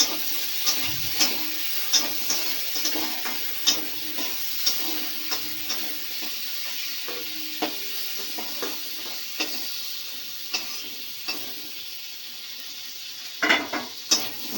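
Shrimp lightly frying in oil in a pan, a soft steady sizzle broken by repeated clicks and scrapes of a spatula against metal, the taps sharpest near the end.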